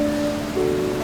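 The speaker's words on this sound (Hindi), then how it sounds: "बारिश की आवाज और तेज हो जाती है।" Steady rain falls as a dense, even hiss with a faint tonal hum running beneath it, staying level throughout with no voices.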